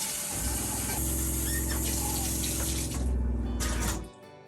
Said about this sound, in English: And I'm going to add a little hot water and a little cold water.